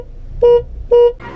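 Two short car horn honks in quick succession from a Chevette, loud and close, followed by a brief rougher blast.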